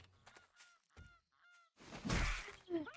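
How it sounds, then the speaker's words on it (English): Goose honks from the video game 7 Days to Die, a few short harsh calls over game ambience, growing louder and more chaotic toward the end. "The goose of death. I hear it."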